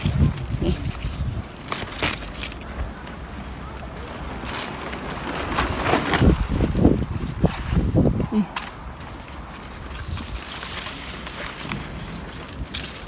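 Gusty wind blows outdoors at a strawberry farm, buffeting the microphone in rising and falling rushes, with people talking intermittently over it.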